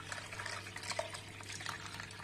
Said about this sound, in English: Now we are going to transfer the wine into the strainer.